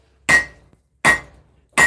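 A blacksmith's hammer strikes a railroad spike being forged into a knife, three sharp ringing blows about three-quarters of a second apart, each with a brief metallic ring that fades quickly.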